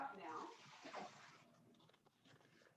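Hot water pours out of a big bowl in a short gushing splash that tapers into a trickle and faint drips.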